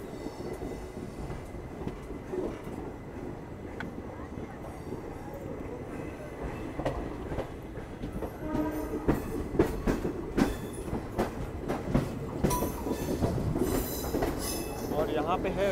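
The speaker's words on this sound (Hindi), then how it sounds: "ट्रेन यहाँ पर काफ़ी देर रुकी रही और अब जाके निकल गई।" A train pulls out of Kashi railway station in Varanasi, with a steady low rumble of wheels on rails building as it departs, rising clatter and clickety-clack, and a brief squeal toward the end, heard close by with no talking.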